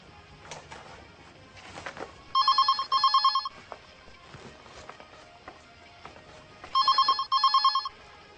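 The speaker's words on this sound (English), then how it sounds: "Telephone. Oh, the phone." Old-style telephone bell ringing in two double bursts, each pair of trilling rings followed by a pause and then repeated, fairly close with light background clatter.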